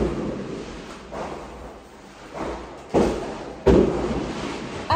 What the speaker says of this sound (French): ils sont en train de faire péter des feux d'artifice dehors